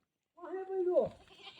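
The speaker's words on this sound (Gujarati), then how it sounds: "આપણે બકરા જુઓ" A single goat gives a short, close, wavering bleat that rises and then drops off, heard alone on a village farm.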